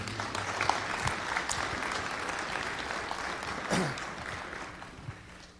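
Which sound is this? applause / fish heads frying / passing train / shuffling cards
applause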